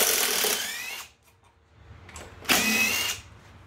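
A power driver whirs in two short bursts, loud and close, backing out the two bolts holding the ignition coil on a Kohler engine of a Toro push mower, with a quiet pause between.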